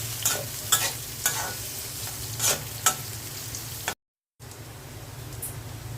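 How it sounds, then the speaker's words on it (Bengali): Sliced onions fry in hot oil in a cooking pot for small-fish chorchori, with steady sizzling broken by several sharp scraping stirs of a spoon, then a brief drop to silence before the sizzle resumes. "পেঁয়াজটা হালকা ভেজে নিলাম।"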